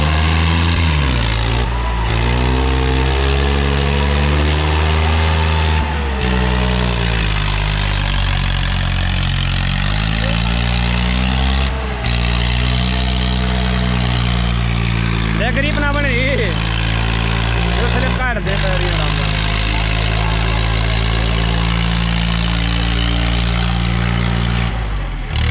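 A Swaraj 855 tractor engine runs steadily and loudly throughout a stunt at a harrow competition, a deep continuous drone with slight rises and dips in pitch and brief changes in load.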